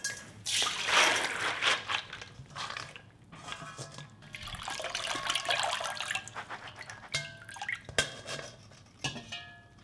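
Soaked beans for Korean bean porridge being strained, with running, dripping water and light clinks of a pot or strainer, moderately close and uneven, no talk.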